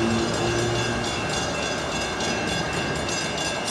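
A northbound freight train rumbles past at close range in Hialeah, giving a loud, continuous roar with steady wheel and rail noise and a faint horn-like tone near the start.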